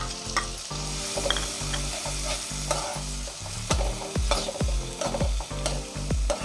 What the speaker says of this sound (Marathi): कांदे एकदम मऊ होईपर्यंत आपण ह्याला परतून घ्यायचं।